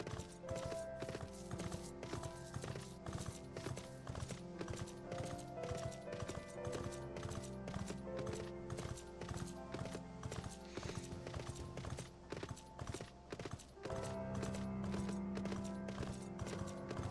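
Horse hooves clip-clop in a steady, continuous rhythm while riding a mount in Final Fantasy XIV, loud and close over game music with no talking.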